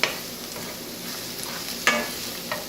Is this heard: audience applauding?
no